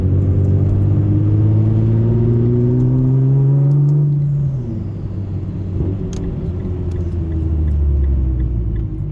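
A Nissan GT-R R35 rumbles steadily while driving, its engine and exhaust tone rising, then dropping midway and settling into a lower cruise, loud and close from inside the car.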